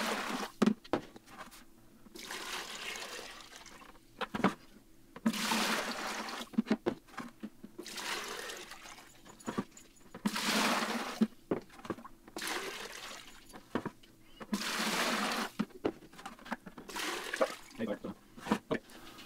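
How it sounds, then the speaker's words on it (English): Water treated with pool shock is poured back and forth between two containers, giving repeated bursts of splashing pour separated by short pauses, close and moderately loud, with a voice talking at times between the pours. "we're just going to go ahead and pour it back and forth between these two containers to aerate it"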